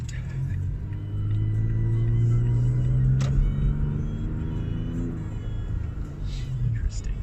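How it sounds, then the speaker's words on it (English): Interior view of a 2019 Toyota Tacoma TRD 4X4 pickup truck being driven, its engine rumbling steadily and rising in pitch as it accelerates, then easing back, with a continuous low road drone throughout. "Driving a truck is actually a pretty weird feeling."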